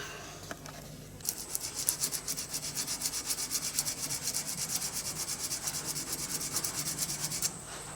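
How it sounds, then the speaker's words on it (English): Brass art deco clock parts being hand-polished, a fast steady back-and-forth rubbing scrub that starts after a short pause and runs evenly until near the end, close and alone. "Okay, give them a polish up."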